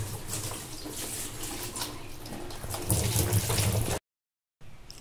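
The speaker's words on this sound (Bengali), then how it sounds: "এবার আমি পাতাটা ধুয়ে নেব।" Taro leaves (padma kochu) rinsed under a running tap, a steady, close splashing rush of water broken by a brief pause before the flow resumes.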